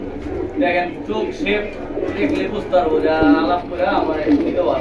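Pigeons at a pigeon sale give soft, repeated coos close by, mixed with the steady talk of people discussing a pair for sale.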